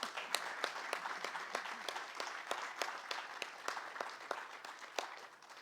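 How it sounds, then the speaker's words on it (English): A small crowd claps at an outdoor community league plaza ribbon cutting, crisp separate claps in a loose rhythm, moderately near and fairly quiet, tapering slightly toward the end. "I'm going to just stop and have a round of applause for all those many,"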